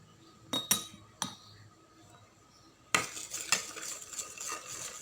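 A spoon clinks and scrapes against a bowl while mixing a face mask paste of milk, coffee powder and cinnamon powder. A few distinct taps come first, then a steady run of brisk stirring with no talk.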